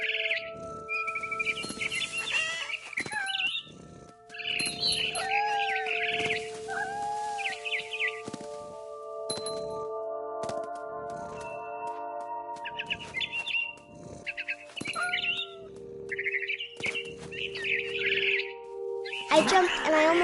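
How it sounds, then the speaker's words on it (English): Repeated barn swallow chirps and twittering calls in What Remains of Edith Finch video game, in varied bursts, fairly close and clear, with short pauses between phrases. "Then I heard chirping outside my window. It was a barn swallow going back to her nest."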